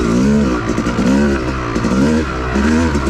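Yamaha YZ250 dirt bike on an off-road trail with its engine revving loudly and continuously, pitch rising and falling through throttle changes, close and steady throughout.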